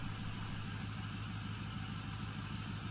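A heavy tractor engine idles steadily in a farming video game, a low, chugging rumble, unchanging and close throughout.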